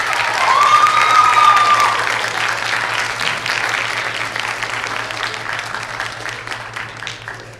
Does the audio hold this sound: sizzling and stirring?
no